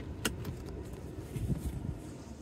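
Steady low road rumble inside a car while driving, with a few faint clicks and ticks near the start, no talking.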